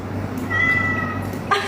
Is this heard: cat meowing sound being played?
yes